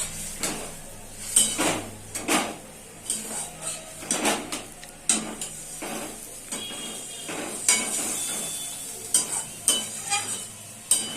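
Koraishaak greens being stirred in a pan with a little water, a series of close scraping and clattering strokes with a soft sizzle underneath, repeating irregularly throughout.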